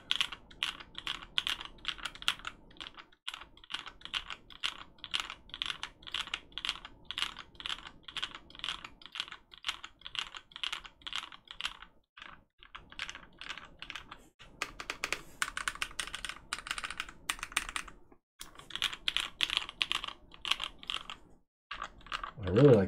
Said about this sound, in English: Actually, I think these switches sound pretty nice in here.